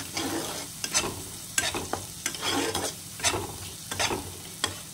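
A spice mix with salt and turmeric is stirred in a hot pan for a Bengali doi rui fish dish, with repeated scraping strokes over a gentle sizzle and no voices.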